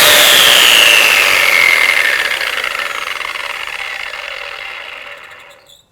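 A Metabo WEPBA 26-230 MVT Q angle grinder winds down after switch-off, its loud whine falling steadily in pitch and fading over about six seconds until the disc stops, heard close and alone without speech.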